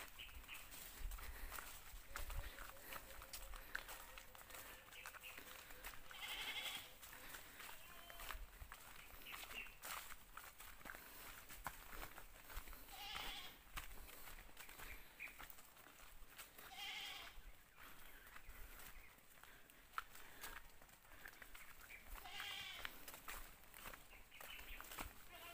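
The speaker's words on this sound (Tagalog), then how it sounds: "Yan ang kaibigan nating kambing." A goat bleats several times at a distance, faint, short calls spread across a quiet outdoor scene with soft rustling and footsteps.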